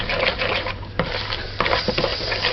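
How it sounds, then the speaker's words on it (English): A spatula folds sieved flour into batter for a coconut peanut cake, giving close, soft, repeated scraping and squelching strokes with a few clicks against the bowl. "So let's fold this in. Just kind of mix it in."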